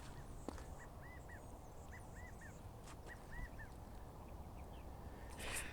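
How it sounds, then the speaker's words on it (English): California quail calling repeatedly on a hiking trail in Mission Trails Regional Park, San Diego, a series of short, fairly distant calls at a steady pace over steady ambient hiss. "I think that's a California quail call."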